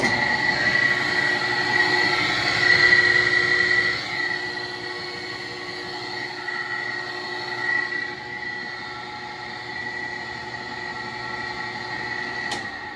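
A drive motor with a bad bearing on a Stoelting machine runs steadily with a grinding, whining rumble and a high squealing tone over it, fairly loud and close, with no voices.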